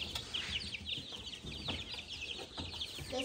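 Baby chicks, including a frizzle, peep and cheep in a steady high chorus close by, with faint scuffling underneath and no talking.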